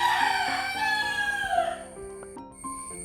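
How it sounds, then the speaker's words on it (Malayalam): Roosters crow competitively close by, with one long, loud cock-a-doodle-doo falling away, followed by quieter clucks and scattered fowl calls with no talking. "കോഴികൾ മത്സരം വെച്ച് കൂയിക്കൊണ്ടിരിക്കുകയാണ്"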